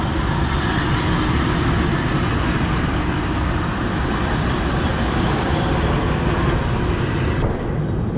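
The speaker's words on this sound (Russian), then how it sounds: "Вот мой поезд пришел." A Moscow–Abakan passenger train rolls into a station with a loud, steady mechanical rumble and roar that continues throughout before easing slightly at the end.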